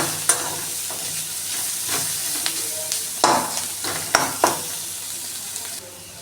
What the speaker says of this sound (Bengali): সবগুলোকে একসাথে ভেজে নিচ্ছি